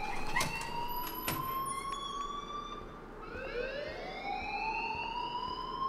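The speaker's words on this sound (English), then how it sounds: "please turn off that alarm since that's your job" A wailing siren-like alarm rings in the Life Is Strange video game, a steady rising and falling electronic tone that sweeps down and climbs back up, loud and continuous with clicks and clatter underneath.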